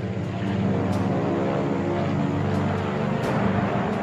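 A World War Two German dive bomber's propeller engine drones loudly and steadily, a continuous close roar with faint clicks over it.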